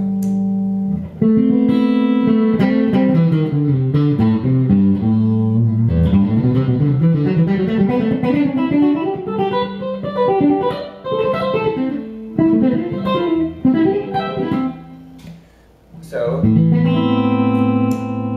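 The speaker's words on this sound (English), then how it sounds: "you can mix the piezo with, say, the neck pickup" Clean electric guitar, an Ibanez Prestige RG2120X with piezo mixed with the neck pickup, playing melodic phrases and chords with a bright, slightly acoustic-like attack, ringing notes and reverb, no talking.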